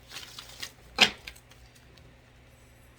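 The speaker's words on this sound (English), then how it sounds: "I'm gonna give it one more shuffle" A deck of tarot cards is shuffled nearby in a few quick riffling bursts, with one sharp louder snap near the middle, then quiet handling.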